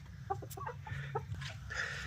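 Hens cluck nearby in short, irregular bursts over a steady low background hum, with scattered bird calls mixed in.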